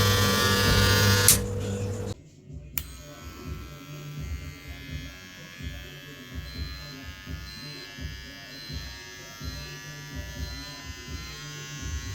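Kemei KM 1677 electric trimmer rated at 8,000 RPM, a loud steady motor buzz that cuts out, then restarts as a quieter, slightly uneven hum with a person talking over it.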